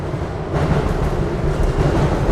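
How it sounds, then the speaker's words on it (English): A New York City subway train arrives at a station during the morning rush, a steady loud rumble and rolling roar that swells slightly as it comes in. "I think that's my train."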